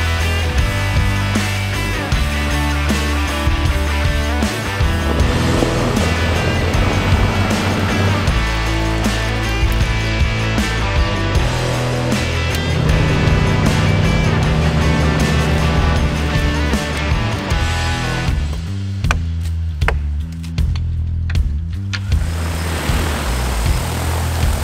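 DJI Agras T40 agricultural spray drone flying over an easement, a loud continuous rotor drone with steady tonal whine and broadband wash, sustained throughout and slightly changing pitch near the end.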